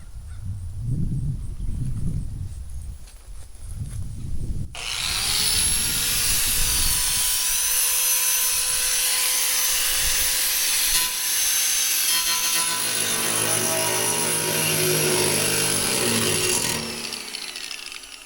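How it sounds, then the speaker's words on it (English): Low knocking and handling thuds, then a power cutter screams to life, grinding loudly and steadily through a metal barrel before winding down near the end. "see if this cutter will cut"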